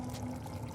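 Water poured into a glass as a radio drama sound effect, a short, quiet, continuous trickle heard alone without talk.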